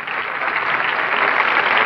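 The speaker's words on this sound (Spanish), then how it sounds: "Fuerte el aplauso para doña Cristina" A TV studio audience at a 1991 Spanish-language game show breaks into a dense, steady wash of applause that holds for a couple of seconds.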